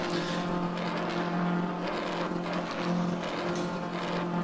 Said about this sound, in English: listen to the soft limiter for some cars